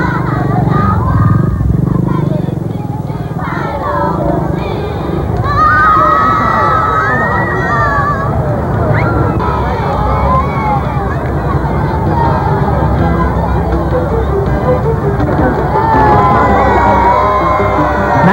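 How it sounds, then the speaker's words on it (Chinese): A dense crowd of townspeople lining a street keeps cheering and singing during a zoo animal parade of trucks. Horse-like whinnies and engine noise mix into the steady, loud, near babble for the whole stretch. "不停地欢呼和歌唱。"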